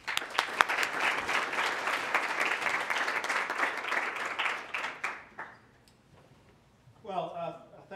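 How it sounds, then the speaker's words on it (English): Audience applause for the speakers at a digital humanities unconference gathering in Northern Ohio: dense, sustained clapping from a room full of people for about five seconds, then tapering off, with a voice starting to speak at the end. "consider this a round of applause for yourselves for being here"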